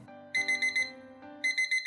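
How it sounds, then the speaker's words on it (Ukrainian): A mirror-faced digital alarm clock sounds its standard built-in alarm melody, a short repeating pattern of bright electronic beeps in quick groups, moderately quiet and close, with no talking. "Мелодія будильника стандартна і не дуже голосна."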